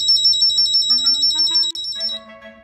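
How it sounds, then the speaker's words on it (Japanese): A pull-string personal security alarm buzzer sounds up close, giving a loud, shrill electronic tone with stepping, melody-like beeps that change pitch several times and carry on throughout, with no talking. "防犯ブザーになる。"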